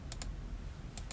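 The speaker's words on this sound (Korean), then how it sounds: "딜리트나 백스페이스를 눌러서 지우시면 되고요" Delete or backspace keys are pressed on a computer keyboard: two quick pairs of crisp, quiet clicks, separated by a short pause.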